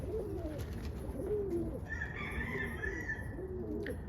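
Roller pigeons coo softly in a loft, low burbling calls rising and falling over a steady murmur of the flock, with a few brighter chirps near the end.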